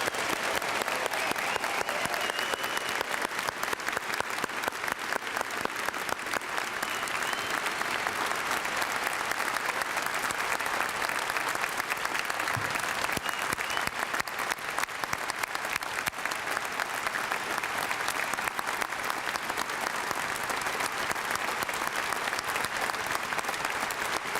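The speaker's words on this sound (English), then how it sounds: "do a rousing applause for our 151st entering freshman class" Rousing, sustained applause from a large standing audience at a 2012 freshman convocation welcoming the entering class, a dense steady roar of clapping that holds evenly throughout.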